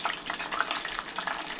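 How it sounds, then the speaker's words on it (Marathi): Sliced onions sizzle and crackle in hot oil in a kadhai with whole spices, a soft, steady frying hiss with small pops, heard close and without talk. "आता लाल होईस्तोपर्यंत परतून घेऊया कांदा लाल झालेला आहे."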